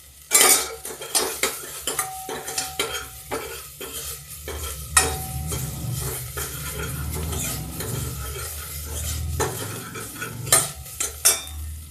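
Onion and ginger frying in a pan as a utensil stirs them, giving a continuous sizzle broken by frequent clinks and scrapes of metal against the pan, close and fairly loud.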